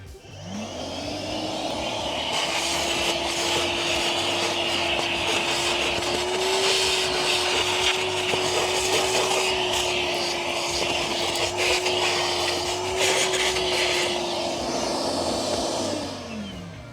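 A Milwaukee M12 Fuel 1.6-gallon cordless wet/dry vacuum runs on its lowest power level on a rugged car floor mat, giving a steady whining motor drone with a slight waver, sustained close and loud for the whole stretch.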